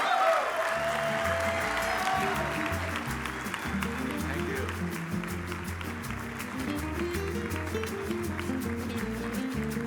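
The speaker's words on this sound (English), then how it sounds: "Another round of applause." Applause from the crowd at an awards gala, a continuous wash of clapping running under music with low sustained tones for the whole stretch.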